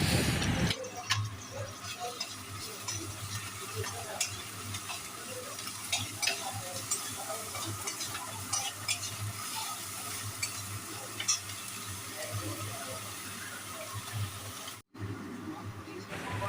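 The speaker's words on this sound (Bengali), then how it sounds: "পেঁয়াজটাকে একটু হালকা লাল লাল করে ভেজে নিতে হবে।" Onion paste frying in oil in a pan for a fish curry, a continuous close sizzle with scraping and clicking stirring sounds, faint voice at times.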